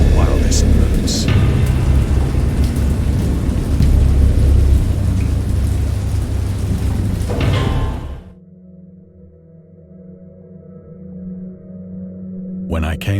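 Thunderstorm in Dagon, an H. P. Lovecraft-inspired game: heavy roaring rain with deep thunder rumbling loudly for about eight seconds, then abruptly falling away to a faint low drone.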